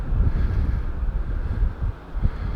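Strong wind by the sea at the Porto Pi harbour in Palma de Mallorca as a cruise ship heads out, a heavy low buffeting roar against the microphone with nothing else clear beneath it.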